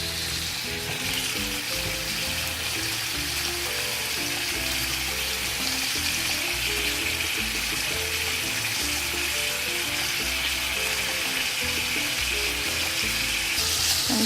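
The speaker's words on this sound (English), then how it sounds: "the objective of this is to cook the sausage until it's brown" Chicken sausage sizzles in olive oil in a preheated pan. The frying is a steady, close crackle that runs throughout, with faint low clatter in the background and no talking.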